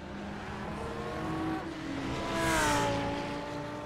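GT3 race cars at Motegi roar past in a continuous engine drone with shifting pitch, and one car swells louder in a close pass partway through.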